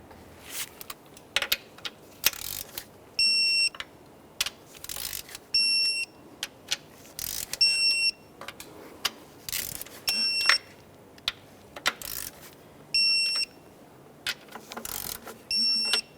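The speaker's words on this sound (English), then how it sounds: "Now we'll torque them in that same sequence." A torque wrench tightens the ignition coil bolts on a 2012-2018 Nissan Maxima 3.5L V6. Bursts of ratcheting clicks are punctuated by repeated short, bright electronic beeps, all close and clear with no talking.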